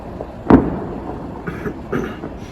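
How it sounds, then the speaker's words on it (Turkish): New Year's Eve fireworks burst outdoors: one sharp, fairly close bang followed by a few softer, more distant pops and crackles. "Havai fişekle eğlenelim."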